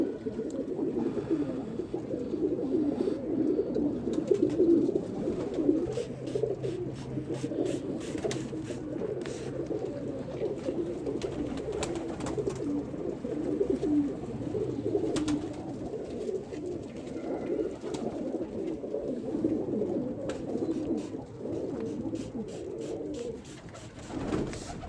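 A flock of pigeons coos in a steady, overlapping murmur, the soft throaty calls rising and falling together at moderate volume, with scattered wing flutters and small clicks throughout and no voices.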